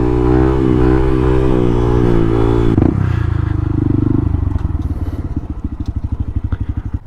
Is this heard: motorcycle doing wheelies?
yes